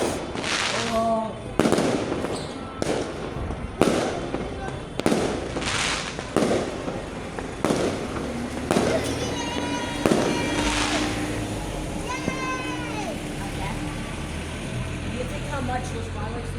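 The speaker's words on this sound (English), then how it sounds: "How much those fireworks we launched over there?" A neighbourhood fireworks display sets off repeated sharp booms and crackling bursts at an irregular pace, loud and fairly close, with people talking and calling out between the blasts.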